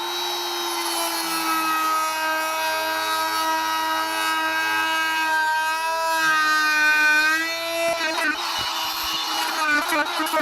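A Fein oscillating power tool runs nonstop during a bathroom demolition, giving off a close, steady whining drone whose pitch wavers near the end.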